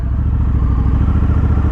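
A 2024 Honda Africa Twin Adventure Sports motorcycle is ridden at steady speed, its engine giving a loud, close, continuous rumble with rapid rhythmic pulsing under wind roar and no voices.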